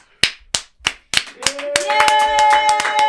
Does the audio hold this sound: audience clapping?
yes